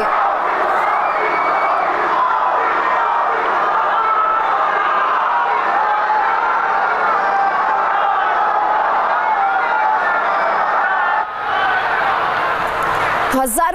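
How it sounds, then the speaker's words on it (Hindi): Thousands of people at a political rally for Prime Minister Narendra Modi in Bengal chanting his name, a dense roaring crowd sustained at full volume throughout, voices blending into one rhythmic mass. "हजारों की संख्या में मौजूद सभा में लोग मोदी मोदी के नारे लगाते रहे"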